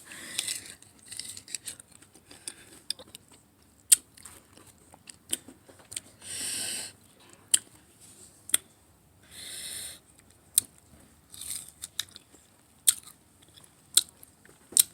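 Someone eating sour tamarind, with short crisp bites and crunches scattered irregularly through otherwise quiet sound, close up, a few louder bursts of chewing and no talk.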